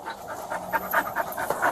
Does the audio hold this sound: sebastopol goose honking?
no